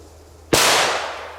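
A Gaoo Hammer H3 PRO firecracker explodes in one sharp, loud bang followed by a fading echoing tail, set against a quiet outdoor background.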